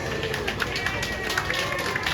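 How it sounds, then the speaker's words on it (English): A crowd at a bluefin tuna cutting show in a Tokyo Central store in Gardena claps in a steady, dense patter, with chatter mixed in. "Everybody, please, a round of applause."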